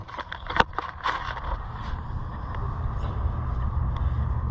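A rough low engine rumble from an IH 560 Farmall tractor with a misfire runs steadily, with uneven knocks and pops near the start. The engine sounds nearby and a little muffled.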